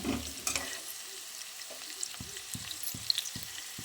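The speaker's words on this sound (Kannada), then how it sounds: "ಈರುಳ್ಳಿ ಫ್ರೈ ಆಗಬೇಕು ಈಗ" Onions fry in a pan for paneer fried rice, with a soft steady sizzle under a regular run of spatula scrapes in the second half.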